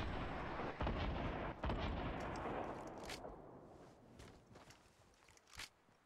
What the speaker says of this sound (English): I love the rocket barrage.